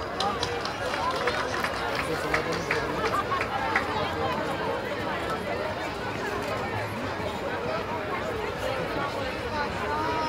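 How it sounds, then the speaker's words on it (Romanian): An audience at a Christmas show with Santa Claus applauds in a steady, dense wash of clapping that lasts throughout, mixed with crowd chatter and murmuring voices. "Aplauze, vă rog!"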